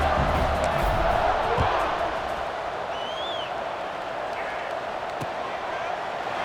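Stadium crowd roaring in College Football 26 during a UL Monroe versus Troy game, a dense continuous wash of cheering that is loudest at the start and then holds steady, with a faint whistle-like tone partway through.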